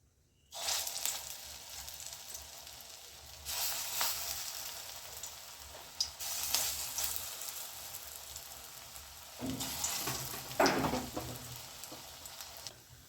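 Drumstick flower fritters fry in hot oil in a wok, giving a steady loud sizzle with bursts of crackling as more batter pieces drop in. No one speaks.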